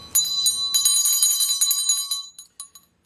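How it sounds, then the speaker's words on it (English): A bell is rung repeatedly in a quick, bright flurry of strikes, close and loud, then thins out into a few scattered dings before fading. "I do have to ring the bell today."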